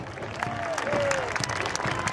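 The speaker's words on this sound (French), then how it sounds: "j'aimerais bien, pour Freddy, un tonnerre d'applaudissements" Crowd applause at the Gérardmer daffodil festival, a short, dense burst of clapping from a large audience, with a voice and a brief whistle-like tone audible within it.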